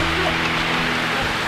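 Rain falls steadily outdoors at a rural spot with a damaged house, a continuous broadband hiss of drops with no voices over it.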